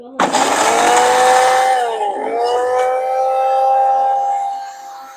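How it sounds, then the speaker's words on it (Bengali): Mixer grinder blending ginger and garlic into paste, a loud steady motor whine with broadband grinding that dips in pitch briefly midway, then runs on and fades near the end. "এই যে মিক্সচার মেশিন লাগিয়ে দিয়েছি, এখন সব দাঁড়িয়ে দাঁড়িয়ে পেস্ট করব।"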